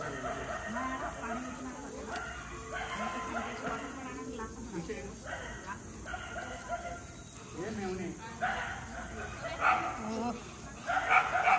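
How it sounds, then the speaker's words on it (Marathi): Dogs bark and yip excitedly in a scuffle, overlapping with people talking throughout. "आणि कुत्र्यांची एक भांडणं चालली आहे काय माहिती"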